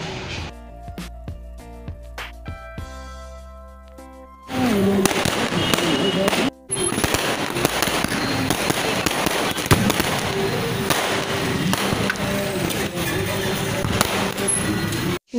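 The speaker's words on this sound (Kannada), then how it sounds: "ಬರ್ತಾ ನಿಯರ್ಲಿ ಬರುವಾಗ ಪಟಾಕಿ ಜಾಸ್ತಿ ಆಗ್ತಾ ಉಂಟು." Firecrackers and fireworks going off along a brightly lit roadside: after a few seconds of quieter tonal sound, a dense, loud, continuous barrage of crackles and bangs fills the rest of the clip.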